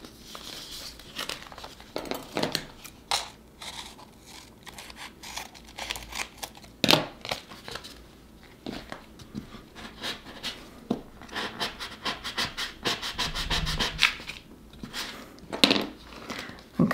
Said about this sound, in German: Dann kann ich die Folie hinten lösen und die Teile bleiben wunderbar auf dem Übertragungsmedium drauf